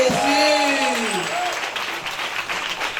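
A church congregation claps and cheers in praise during a worship service, with loud sustained applause and crowd noise under a voice and some musical tones, gradually easing over a few seconds.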